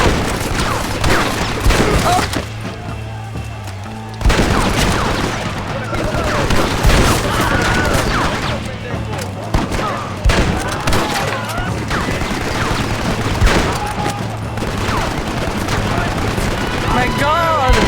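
Machine gun bursts and scattered gunfire crackle through a Red Dead Redemption shootout, dense and continuous with booming hits, while excited voices talk over the action.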